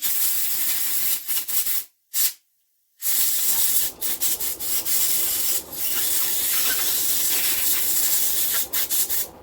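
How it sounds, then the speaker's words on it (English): Compressed air blasting grit out of the governor on a Villiers Mk12 engine: a loud, close, steady hiss that cuts out briefly twice near the start, then keeps blowing with small flutters. "I'm going to blow this governor out. Blow any grit off."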